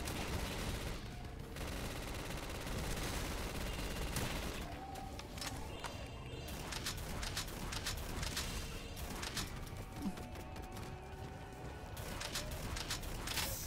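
Steady barrage of gunshots and automatic fire in a Black Ops 3 Zombies match on a Spyro-themed custom map, faint overall, with mechanical clanks mixed into the din.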